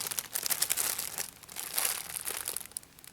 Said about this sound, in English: Excuse the crinkling.